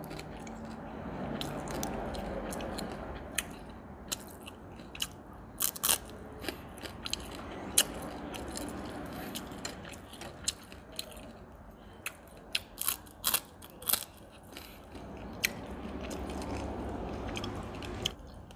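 Someone eating crunchy grilled crab, with close crackling bites and chewing crunches scattered irregularly over steady low background noise.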